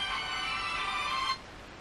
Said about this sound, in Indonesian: Siapa nih telepon?